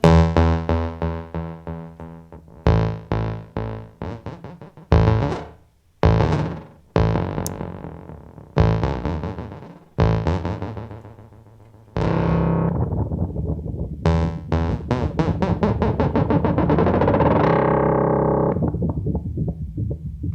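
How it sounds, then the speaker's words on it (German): KORG NTS-1 synthesizer run through its tape echo effect: loud, distorted synth notes in choppy bursts whose repeats smear and wobble, then a long sustained note with dense echoing tails decaying at the end. "Dann gibt es Tape Echo."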